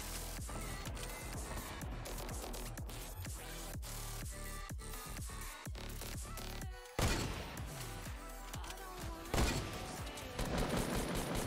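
Rapid, dense gunfire in the Fortnite battle royale video game, with sniper shots mixed into a continuous stream of close, loud shots and impacts that runs almost without pause.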